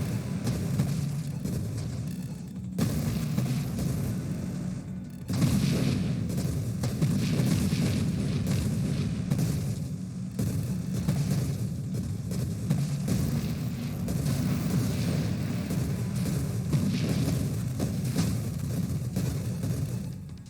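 Explosions in the space shooter Nova Drift boom and rumble almost continuously, with sharp onsets near the start and at about five seconds, over a dense low roar with no voices.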